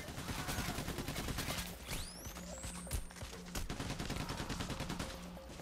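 Rapid gunfire from a shootout in the heist shooter Payday The Heist, with dense automatic bursts and single shots running nearly nonstop, loud and close, with a brief whizzing streak partway through.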